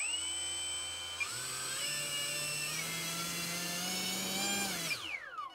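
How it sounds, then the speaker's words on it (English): The electric motor of an E-flite Micro Draco STOL RC bush plane on a 3S battery revs up to a steady high-pitched whine, climbs slightly in pitch, then spins down, close and clear with no talking. "right now we are gonna do a motor rev. This is on 3S"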